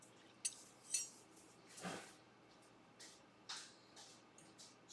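A spoon clinks and scrapes against a pot of beans being stirred, a few soft separate taps spread out in a quiet kitchen.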